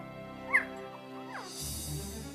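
A small tan mixed-breed puppy gives a few brief, high whimpers and yips, faint and close, over a low steady background.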